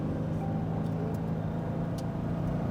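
A Porsche 356, the original classic sports car, drives steadily along a road, its engine hum continuous and fairly loud throughout, with a faint passing whoosh of road noise and no voices.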